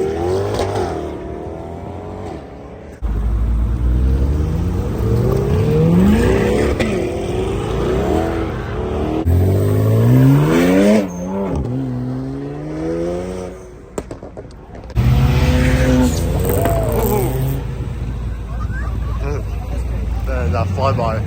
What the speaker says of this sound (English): That flyby.